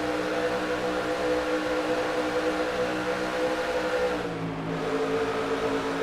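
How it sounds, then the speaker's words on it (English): Several racing trucks decelerating in the USA Trucks West race at Armory Digital Speedway in a video game, a steady layered engine drone whose pitch drops briefly near the end. "You could hear the deceleration there from multiple trucks"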